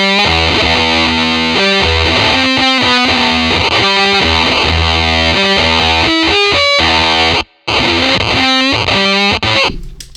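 Electric guitar riff played through a Fuzz Factory fuzz pedal, loud and heavily distorted, with chugging rhythmic notes, a brief dropout near the end, then the riff resumes.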